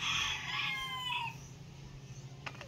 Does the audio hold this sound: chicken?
yes